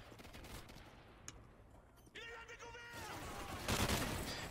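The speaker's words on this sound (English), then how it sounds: "Now you just sit here and use an LMG." Light machine gun fire in Modern Warfare 3 Survival mode, sustained rapid bursts layered with game combat noise and effects, loudest toward the end, with faint voices in the mix.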